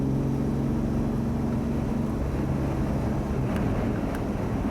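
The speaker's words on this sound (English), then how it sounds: "that's just some wind you're hearing. It's kind of windy out here" Steady wind buffets the microphone outdoors, a constant low rumble with a droning engine-like hum underneath that fades midway.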